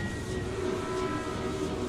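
A video game train from World of Final Fantasy rumbles past at steady volume, a continuous low mechanical drone with a faint tonal hum, no voices.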